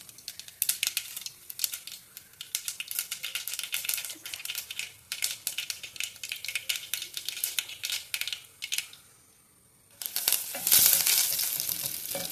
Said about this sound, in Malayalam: നല്ല ചൂടാകുമ്പം തേക്കിന് അതിനകത്തേക്ക് കടുക് വാരിയിടുക